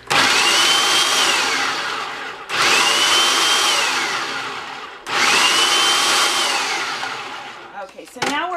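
A food processor pulses salsa ingredients in three bursts of about two and a half seconds each, a loud whirring motor that spins up and winds down each time, followed by a short clatter at the end.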